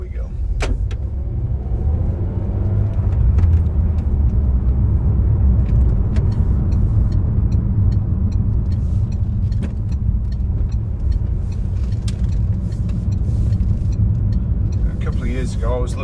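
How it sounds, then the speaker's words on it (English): A Peugeot RCZ coupe driving along country roads and a motorway, giving a steady low engine and road rumble throughout with faint intermittent clicks and rattles from the cabin, no one talking. "I'm just going to take you a quick virtual test drive in this Peugeot RCZ."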